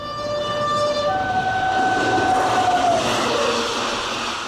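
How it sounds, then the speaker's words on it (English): A train approaching on a bridge sounds a long sustained horn chord over a building rumble and rattle of wheels, close and loud, the horn fading as the rolling noise continues. "No, but there's a train coming."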